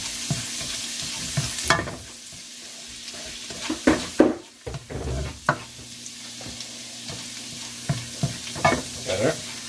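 Garlic frying in oil for fried rice is stirred in a home kitchen pan, with scraping, clinking strokes over a low sizzle, uneven and close, some strokes sharper than others, no talking.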